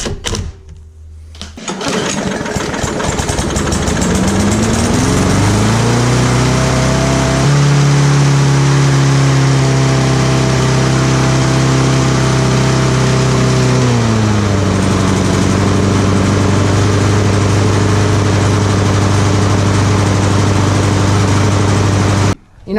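A small engine with a fresh air filter fitted runs unevenly without full power, starting up, then droning loudly with its pitch rising and falling across a sustained run before cutting off abruptly.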